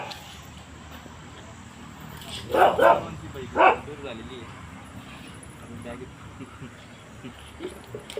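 Dogs bark a few times in quick bursts, moderately close, over a low outdoor background with faint voices.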